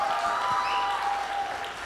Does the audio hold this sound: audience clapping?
yes